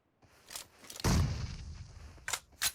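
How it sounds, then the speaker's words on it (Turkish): Grenade explosion in PUBG Mobile: a sudden close, heavy boom with a rumbling tail, set among scattered sharp game gunshot cracks before and after. "O ne biçim bomba ya? Ağzımda patlıyordu."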